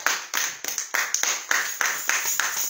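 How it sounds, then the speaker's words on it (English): A church congregation claps in praise, a regular rhythmic beat of roughly three claps per second, bright and crisp, sustained for several seconds with no voices on top. "Somebody give the Lord a hand clap of praise."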